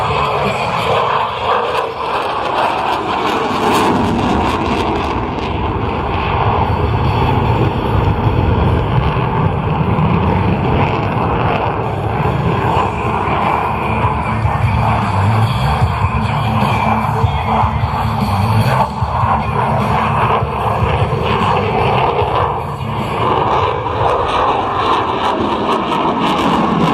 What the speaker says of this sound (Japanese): 会場に接近するスーパーホーレット